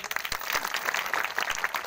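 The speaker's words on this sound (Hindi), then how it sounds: "एक बार ताली बजाओ इनके लिए" A crowd at a statue unveiling ceremony claps steadily for a couple of seconds, a dense patter of applause with no voices over it.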